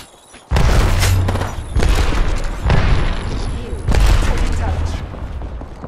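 A grenade blast and a burst of gunfire ring out in a battle royale shooter game, with loud, close booms and rapid shots in several heavy waves one after another over a deep low rumble.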